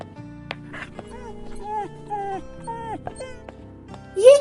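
A small dog whimpers and yelps after being kicked on a street, a series of close high whines and squeals rising toward a sharper cry at the end, with no other sound competing.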